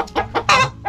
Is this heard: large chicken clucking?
yes